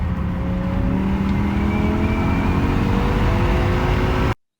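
A V10 BMW E60 M5, neglected and expected to throw a check engine light, pulls hard under acceleration with a loud, steady rising engine and exhaust roar that cuts off abruptly.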